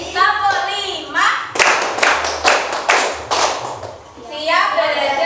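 A classroom of children claps out a counting rhythm, sharp group claps in short bursts that grow into a string of loud, evenly spaced strikes, with children's voices chanting before and after.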